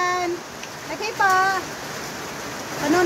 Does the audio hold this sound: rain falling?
yes